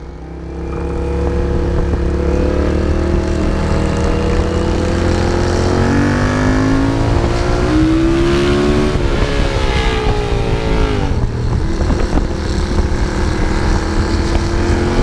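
A custom Honda CX cafe racer motorcycle engine runs loudly and close, its steady drone rising and falling in pitch as it revs for about fifteen seconds.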